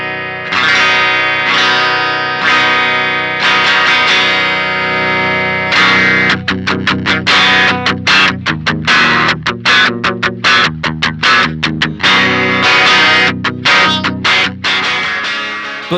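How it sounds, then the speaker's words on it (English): A Telecaster runs through an Electrojunk BOOst treble boost pedal set to its trebly voice, giving a bright, driven electric guitar tone. Sustained chords ring out first, then a choppy run of rapid, punchy strums, loud with no talking. "we're running the Tele into the boost into the same amp, same settings"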